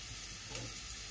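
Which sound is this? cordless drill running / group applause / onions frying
onions frying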